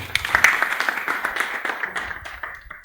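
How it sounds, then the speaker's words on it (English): Hackathon audience giving a team a round of applause, a mix of close sharp hand claps over a wider wash of clapping that fades toward the end, with no talk over it. "And one more time, let's give a big round of applause."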